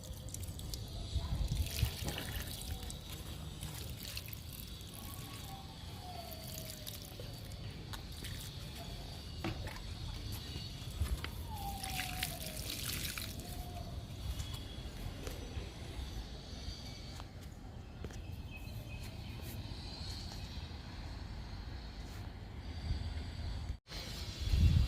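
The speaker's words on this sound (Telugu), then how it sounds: "మొక్కలన్నిటికీ వాటర్ ఇస్తున్నాను." Water trickles and drips steadily as potted garden plants and freshly planted cuttings are watered by hand, a soft continuous splashing with faint footsteps, close by and without talk.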